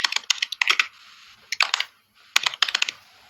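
Quick bursts of typing on a computer keyboard during a lecture, close crisp clicks in three short clusters separated by brief pauses.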